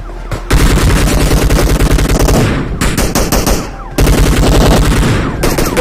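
Rapid automatic gunfire rattles loudly from a PUBG Mobile battle royale match, sustained bursts broken by a brief pause before firing resumes at full intensity.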